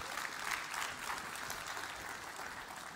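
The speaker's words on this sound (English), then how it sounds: "Round of applause for that team." An audience applauds a team at a presentation event, a dense, steady round of clapping from many hands, moderately distant and with no talk over it.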